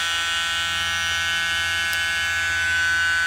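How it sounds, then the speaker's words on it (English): A harsh, continuous 1970s car key-in warning buzzer from a 1977 Lincoln Town Coupe drones steadily at one pitch, loud and close, with no talking. "Ooh, annoying 70s buzzer. Buzzers."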